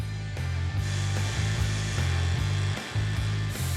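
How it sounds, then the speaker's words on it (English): Welding the bottom onto a metal cup holder in a garage, a steady close buzz broken by short regular gaps as the torch stops and restarts. "Now I'm gonna weld the bottom on."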